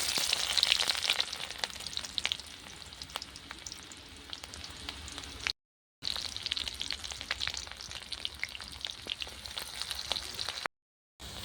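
Onions, dried chillies and garlic frying in hot oil on a clay stove: a steady, dense crackling sizzle that runs throughout, broken by two brief silent gaps.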